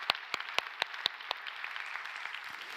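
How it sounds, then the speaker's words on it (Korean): A church congregation claps in celebration during an Easter Sunday worship service, a few sharp claps at first that blend into a softer, scattered patter of applause fading out. "하나님 앞에 큰 축하의 박수 드리겠습니다"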